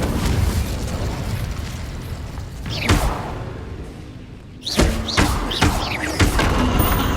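In the video game Hogwarts Legacy, Confringo explosion spells go off in a fight with loud booming blasts. Whooshing casts come between the explosions, and a series of bursts and thuds follows after a brief lull.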